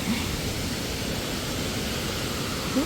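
The Huai Mae Khamin waterfall in Kanchanaburi, Thailand, pours with a steady, close, broadband roar of rushing water that holds unbroken throughout.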